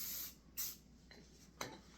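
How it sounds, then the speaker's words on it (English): Short bursts of spray paint hiss onto a slick cereal box surface, three separate sprays with quiet gaps between, close and fairly faint. "and you'll just spray paint some on it."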